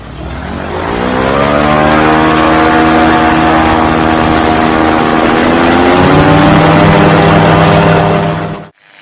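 A microlight aircraft takes off, its engine roaring loud and close at full power with a steady propeller drone that climbs in pitch as it accelerates, then cuts off sharply at the end.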